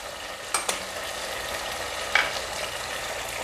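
Tomatoes with salt, red chilli, turmeric and dried coriander fry in a pan while being stirred, a steady soft sizzle with a few brief scraping clicks of the spoon, alone and close.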